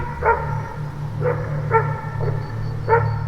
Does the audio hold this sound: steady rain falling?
no